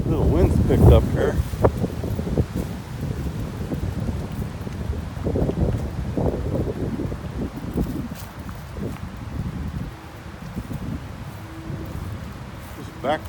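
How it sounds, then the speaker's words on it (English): Wind gusts across a microphone outdoors in Olentangy Park, a steady low rumbling buffet with rustling, under a person speaking throughout. "Little wind's picked up here."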